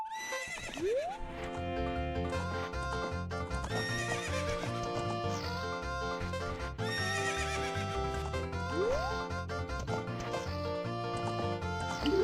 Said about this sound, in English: If you try to jump over a fence at an angle, the horse won't like it and it won't jump.